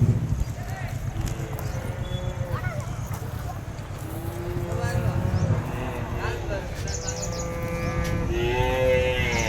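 Cattle mooing at the Vaniyambadi cattle market, with several long, drawn-out lows from different animals at varying distances over a steady crowd murmur, voices and general market bustle.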